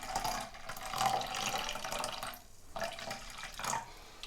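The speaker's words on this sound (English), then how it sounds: "I think I'll just add a little bit more water" Water being poured or run into golgappa pani, the spiced water for pani puri, a continuous splashing, trickling flow with brief pauses, close by and moderately loud.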